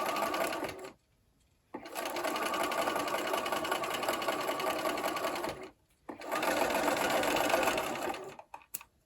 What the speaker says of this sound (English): you'll take 1 rectangle and 1 square, follow the same procedure, line up the corners. If you want to pin, you can. Just go right in and sew.